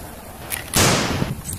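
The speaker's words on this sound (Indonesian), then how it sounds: "Wah, tembakan AK lagi teman-teman." A single loud shot from a toy soft bullet blaster modeled on an AK-47, cracking sharply up close with a short trailing rattle, preceded by a faint click.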